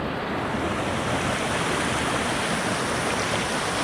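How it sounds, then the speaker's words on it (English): Rushing water from rain-swollen waterfalls along a mountain trail roars as a loud, continuous broadband rush with no break. "rushing water"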